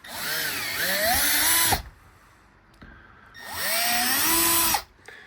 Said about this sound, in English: Well, let's drill some holes.